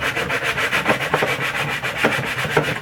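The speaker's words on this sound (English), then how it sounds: "So all we're doing is we're just sanding it" Steady rasping sandpaper strokes rubbing back and forth on a hard plastic Xbox One console case, continuous and fairly loud, with a rhythmic push-pull texture.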